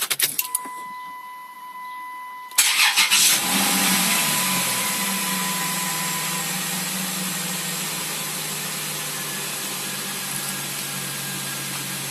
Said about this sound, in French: on n'a plus qu'à démarrer la voiture pour vérifier que tout va bien